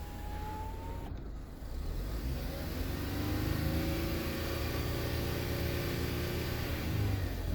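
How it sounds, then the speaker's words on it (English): A 2015 Ford Fusion Titanium engine revs up with the window down, a steady mid-pitched engine drone rising in pitch and holding at higher revs, heard close and alone. "I'll even rev it a little bit, see if we hear anything."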